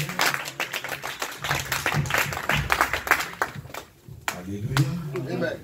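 A church congregation claps together in a lively, uneven burst that swells and then briefly dips, with voices calling out over the clapping.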